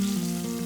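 Mule deer heart and liver sizzling in a pan over a campfire on a cold night, a steady close hiss of frying with a low hum beneath.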